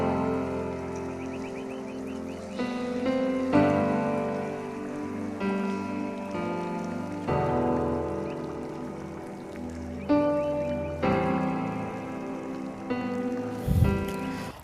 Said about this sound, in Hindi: एकदम हल्की सी रिमझिम सी बारिश हो रही थी